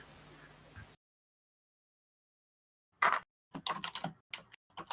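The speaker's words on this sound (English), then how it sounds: "I'm typing something into Ranty right now." Computer keyboard typing in irregular bursts of clicking keystrokes, close and fairly clear, following a stretch of silence after brief background hiss; no one speaks.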